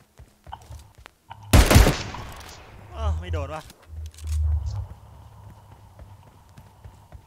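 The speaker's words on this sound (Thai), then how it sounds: "ข้างหน้ายิงกันมันมาก" Gunfire in PUBG Lite opens with a short, loud burst of shots near the start. Players then talk over quieter game sounds.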